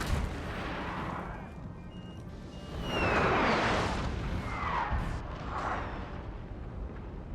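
Cannon artillery fire in Napoleon Total War, with booming blasts over a continuous battlefield rumble, the loudest burst coming midway and smaller ones after.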